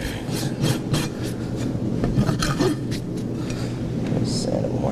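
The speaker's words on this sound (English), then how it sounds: "Sand it one more time here." A horse hoof is sanded by hand in preparation for glue-on aluminum shoes, giving close, rhythmic rasping strokes that repeat steadily against a low background hum.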